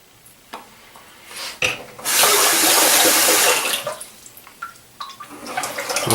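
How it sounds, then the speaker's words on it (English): A straight razor rinsed under a running sink tap during a shave: a few clicks and scrapes, then a burst of gushing water for about two seconds, followed by soft rubbing and handling sounds. "some people were talking about how it's, you know, frowned upon to rinse your straight in the sink as opposed to wiping it on something"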